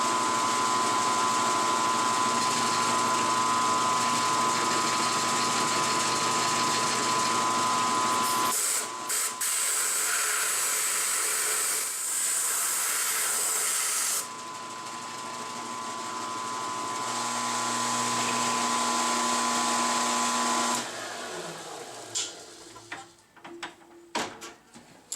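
A machine takes a light conventional cut on a gear with a steady mechanical whine and hum that shifts pitch and texture several times over about twenty seconds. It ends in scattered clicks and clunks as the machine winds down.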